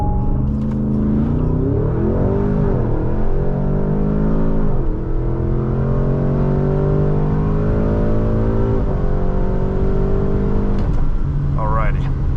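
A 2022 Porsche Cayenne GTS Coupe launching from a standstill with launch control: the loud, close engine roar climbs steadily in pitch, drops back at each of several quick gear shifts, then keeps pulling hard.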